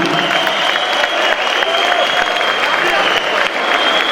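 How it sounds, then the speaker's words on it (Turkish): Dense applause from an audience filling a hall at a Bosnian association's gathering in Istanbul, steady and loud for the whole stretch with no talk over it. "hadi güzel bir alkış onun için de bu salon çınlamalı"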